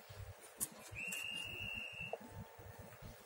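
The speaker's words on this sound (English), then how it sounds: "I can hear some noises of police whistles outside." Police whistle outside a press meet, one long shrill blast with a short chirp after, faint and distant over a steady low background rumble.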